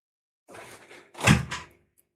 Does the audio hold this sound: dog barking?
no